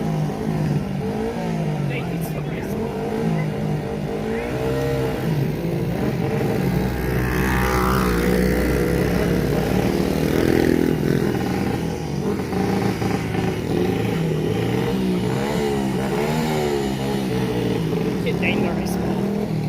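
Vintage dirt bikes race nearby, their engines droning and rising and falling in pitch as riders rev and shift, while voices sound in the background.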